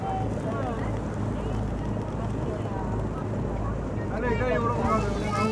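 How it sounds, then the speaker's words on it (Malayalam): Tourist boat on the lake at Thekkady, rocking in the wake of a passing speedboat; a steady low engine rumble and water wash continue throughout, with faint voices in the background. "സ്പീഡ് ബോട്ട് പോയപ്പോൾ നമ്മൾ പോകുന്ന ബോട്ട് കിടന്ന് ഒലയുന്നു,"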